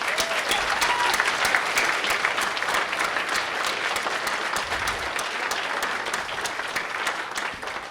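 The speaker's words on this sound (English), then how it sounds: "Let's all give them another well-deserved round of applause." Dense, steady applause from an audience at a Hodges University paramedic program pinning ceremony, sustained at an even level for the whole stretch and easing off slightly at the very end.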